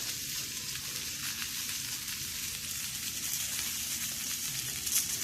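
Mullet fish stuffed with roe grilling over an open fire, giving a steady, even crackle and sizzle that holds at a constant moderate level throughout, with no voices.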